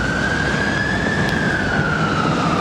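A London ambulance siren wails in a long, slowly sweeping tone over loud, steady street noise, sounding fairly close and continuous throughout.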